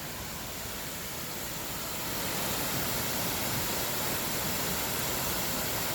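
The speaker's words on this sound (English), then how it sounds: "It's a nice little waterfall here." Long Creek Falls, a small waterfall on the Benton MacKaye Trail near the Appalachian Trail, roars as a steady broadband rush of falling water that swells slightly louder partway through, with no voices.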